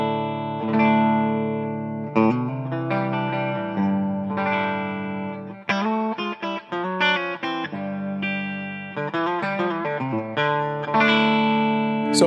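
Clean electric guitar plays a melodic run of single notes and chords, ringing with a touch of reverb, with no talking.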